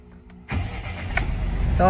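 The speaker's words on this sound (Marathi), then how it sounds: "आता गाडी चालू करून घेऊ आतमध्ये एकदा" A car engine cranks and catches, then settles into a steady idle rumble close by.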